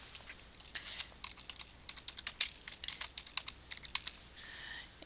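Fingers type a name on a computer keyboard while setting up driver settings for an Epson 9700/7700 printer, a steady close run of light key clicks with a few sharper taps and no talking.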